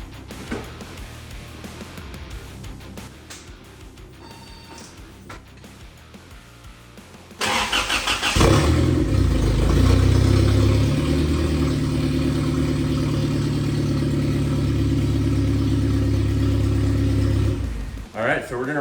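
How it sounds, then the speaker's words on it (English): A Toyota 3RZ engine swapped into a first-generation 4Runner cranks and catches, then settles into a loud, steady running rumble close by for about ten seconds before cutting off, with talk nearby before it starts. "let's try to fire this thing up and see if it'll run for us"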